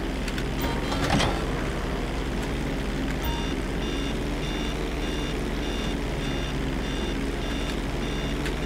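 Reversing beeps from a vehicle in GTA 5 Online during a CEO special cargo mission: a steady, evenly spaced series of high electronic beeps starting partway through, over constant engine and road rumble.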